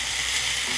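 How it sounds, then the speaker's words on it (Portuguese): Lettuce sautéing quickly in a pan with lemon, giving a steady, close sizzle and frying hiss that runs unbroken through the whole short moment with no talk. "Estou refogando o alface. Dando aquela refogada rapidinha."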